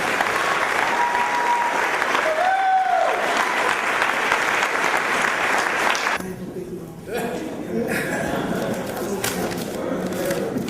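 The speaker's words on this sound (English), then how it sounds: "So if we can give a big round of applause to Lorna Fleming" Big round of audience applause for Lorna Fleming at a testimony event, loud sustained clapping with some crowd noise that thins slightly partway through.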